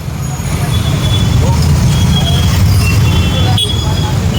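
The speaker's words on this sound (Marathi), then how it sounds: "हे ट्रॅफिक आज स्पेशल कारणामुळे जमा झालं आहे" A road traffic jam backed up by rainwater drainage pipes laid along the street, heard as a loud, continuous rumble of idling buses, cars and trucks close by, with a short horn toot near the end.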